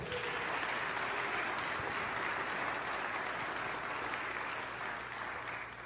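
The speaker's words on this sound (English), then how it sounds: "I know we just gave them a round of applause." An audience at a church gathering for a Reformation anniversary applauds a brass group, dense sustained clapping filling the space at an even level before tapering slightly at the end.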